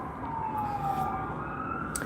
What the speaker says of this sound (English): I hope those sirens are not interfering with the audio too much.